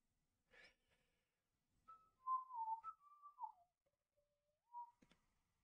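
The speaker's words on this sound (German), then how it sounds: "Pfeifen im Stream ist nicht so geil, hab ich gehört." A person whistles a short, soft melodic phrase up close, with a breathy puff before it and a brief trailing note, in an otherwise quiet room.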